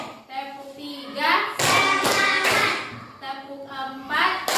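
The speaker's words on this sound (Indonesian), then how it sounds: "Tepuk 1, tepuk 2, tepuk 3" Children in a classroom clap along in a counted clap game, with a few sharp group claps between stretches of chanting voices, close and lively.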